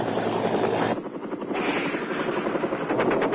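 Huey helicopter heavy fire teams strafe a landing zone in Vietnam in 1967, with rapid bursts of machine gun fire over the steady roar and thump of rotor blades, loud and continuous.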